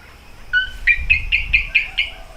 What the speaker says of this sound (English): That's a gecko. They chirp too.